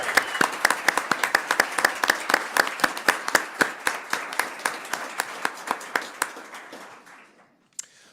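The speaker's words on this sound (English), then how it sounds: "I would like all of us to now join in one more round of applause for everything that you've accomplished." Board meeting attendees applaud rodeo winners with a round of distinct, rhythmic claps that stay fairly even, then thin out and fade, ending with a single stray clap after a brief silence.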